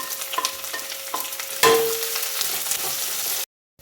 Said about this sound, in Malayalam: ഇനി ഇതിലേക്ക് ചതച്ച് വെച്ച ചെറിയ ഉള്ളി, പച്ചമുളകും ചേർത്ത്.